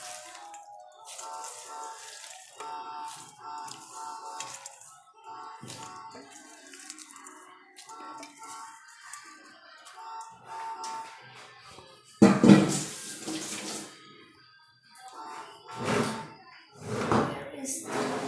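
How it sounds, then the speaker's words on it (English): Grasshoppers are rinsed under cold running tap water in a kitchen, a steady stream with clattering and handling sounds, and a louder gush of water partway through, while a person talks over it. "Now I'll wash the grasshopper again with cold water."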